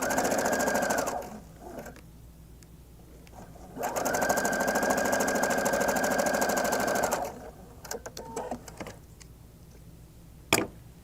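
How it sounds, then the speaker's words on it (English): A sewing machine stitches the side seams of a top, loud and close, in two sustained whirring runs separated by a pause, then a few short stop-start bursts and a sharp click near the end. No one speaks. "I'm just going to do the side seams now"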